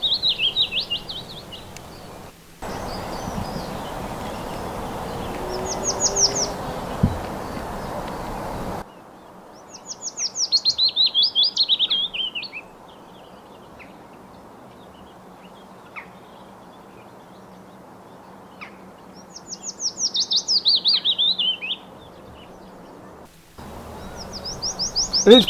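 A male willow warbler sings in spring countryside, clear descending phrases repeated several times with gaps between them. A steady background hiss runs underneath, and a stretch of broader noise appears early on.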